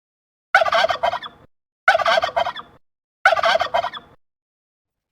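Three loud turkey gobbles from a cartoon farm-animal set, each a rapid rattling burst of about a second, separated by short silences, heard alone and close.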